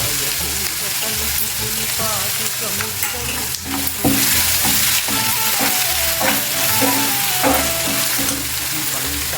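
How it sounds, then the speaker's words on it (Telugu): A tempering sizzles loudly in a pan for tomato pachadi chutney, crackling and hissing without a break from near by. Intermittent stirring knocks and scrapes punctuate the frying. "కొంచెం చట్నీ మీకు తాలింపు పెట్టి చూపిస్తున్నాను"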